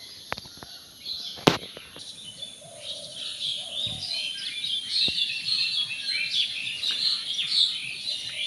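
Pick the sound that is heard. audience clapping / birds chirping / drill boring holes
birds chirping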